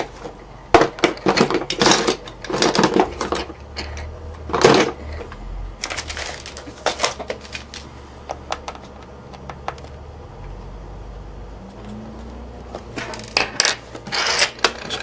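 Small metallic clicks, taps and scrapes as a screwdriver works on a plate of a Sony Vaio laptop, irregular close-up handling noises with quiet gaps between bursts.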